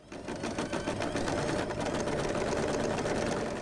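A sewing machine stitches tote bag lining fabric in a fast, steady mechanical rattle, continuous and close throughout with no pauses.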